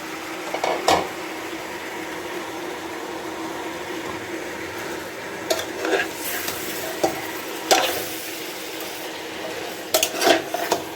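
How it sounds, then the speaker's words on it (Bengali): A utensil stirs vegetables frying in a pan for vegetable khichuri: a soft continuous sizzle broken by several sharp scrapes and knocks against the pan, close and clear with no talking. "সব সবজিগুলোকে দিয়ে দেব এবং ভালো করে মিক্স করে নেব সবজিগুলোকে"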